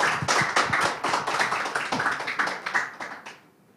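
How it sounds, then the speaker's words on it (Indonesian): An audience of around 125 at a candidate visioning event applauds two candidates, a burst of brisk clapping that is fairly close and loud, then tapers off and stops near the end. "Tepuk tangan untuk dua kandidat kita."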